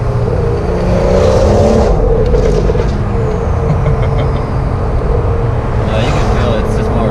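A modified BMW 340i M Sport with a twin-scroll turbo engine accelerates hard, a loud sustained drone rising in pitch from inside the cabin, with road noise throughout.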